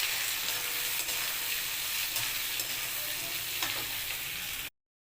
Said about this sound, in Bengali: পেঁয়াজগুলোকে একটু লাল লাল করে আগে ভেজে নেব।